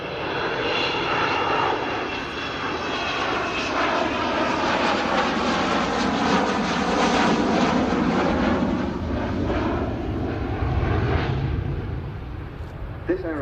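Avro Vulcan B2 XH558 delta-wing bomber roaring past low at an airshow with bomb doors closing, a loud sustained engine howl swelling and sweeping in pitch as it passes, with a commentator's voice over the top.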